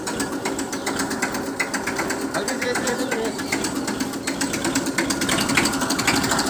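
A 1995 Massey Ferguson 1035 tractor in clean condition idles with a steady, rapid mechanical clatter and rhythmic ticking that fills the whole stretch at close range.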